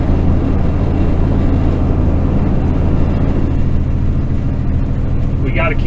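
A vehicle engine pulls hard uphill in a low gear on a hot day on a Bighorn Mountains highway in Wyoming, a loud steady droning rumble close by that continues without a break.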